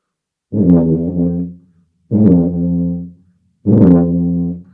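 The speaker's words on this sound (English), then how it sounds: "So somebody scooping a note might sound like this" Three low tuba notes, each scooped, bending up into pitch at the start and held about a second, separated by short silences.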